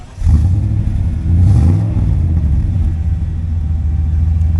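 Holden Monaro 4WD with a single custom exhaust idling close by, a deep, steady low rumble that swells twice in brief revs before settling back to an even burble, with no voices.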